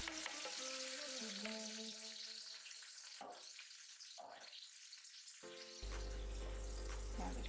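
Homemade chili paste of boiled dried chilies blended with shallots sizzles and sputters as it is stirred in a pan over medium heat, a steady frying hiss with faint tones over it, growing louder near the end.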